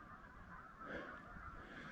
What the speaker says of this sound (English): You hear those geese out there?